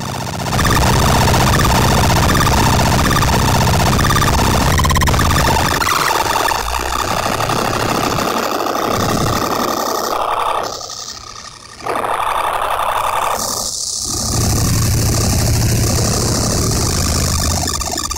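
A DOD FX86B distortion pedal mangles a multi-oscillator drone synthesizer into loud, dense harsh noise, a continuous wall of grinding, siren-like tones with a brief dip and dropout partway through before surging back.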